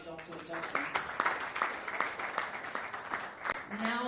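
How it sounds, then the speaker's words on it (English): Applause from a foundation launch audience, a rhythmic run of fairly sparse hand claps at moderate distance, with speech over it. "one more round of applause for Dr. Dauphin."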